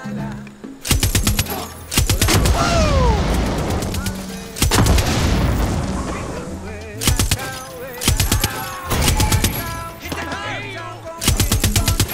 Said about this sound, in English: Oh, it's a heavy machine gun.